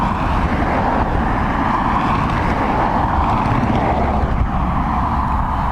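A steady, loud jet roar of an inbound airplane arriving at Dublin Airport, near Lucan, holds as one continuous broadband rumble with no break in level.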